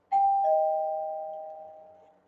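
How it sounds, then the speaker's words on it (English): A doorbell rings once at night, a clear electronic two-tone chime that rings out and slowly fades, heard alone without talk. "Who's ringing the bell at this point in night?"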